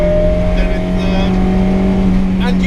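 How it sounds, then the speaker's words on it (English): A Fiat X1/9 mid-engine sports car pulls hard in first gear, its engine note holding a steady high whine with harmonics over road roar, loud and close from the cabin. "that engine is so willing. It's so happy to sort of spin up."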